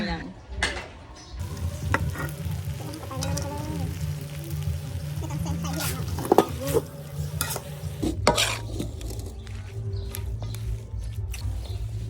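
Noodles being stir-fried in a small wok for a Thai merit-making almsgiving event, with steady sizzling and repeated scraping and tossing strokes over continuous frying hiss, close up, with background chatter.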